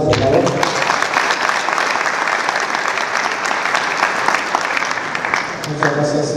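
Loud, sustained applause from the audience at an international aquaculture forum in Mazatlán, dense clapping filling several seconds, with a voice at a microphone faintly heard at the start and again near the end.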